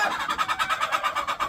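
A broody hen on a backyard poultry farm clucks in a quick, steady run of short repeated calls, fairly close and clear, with no other sounds competing.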